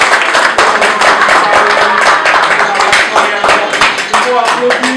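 Audience clapping at a press conference announcing a 12 June 2021 concert, a dense patter of hand claps mixed with crowd noise and voices talking over it.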